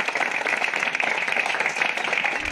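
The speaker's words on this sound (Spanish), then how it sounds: "Fuerte aplauso, muy bien." At a farewell gathering for Academia Argüello, an audience claps steadily in a warm, continuous round of applause that fills the room for a couple of seconds with no clear speech over it.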